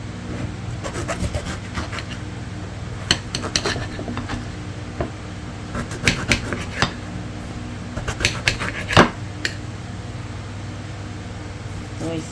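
Soft rhythmic scraping and sawing of a knife cutting through a grapefruit, close and fairly quiet, with a few sharper clicks against the board while someone talks over it.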